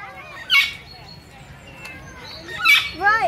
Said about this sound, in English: Right now there's a parrot making a lot of noise over there.